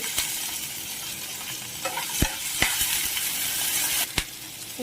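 Garlic and ginger frying in a pan for naati-style mutton biryani, a steady close sizzle with a few sharp clicks of a spoon stirring against the vessel, no voices.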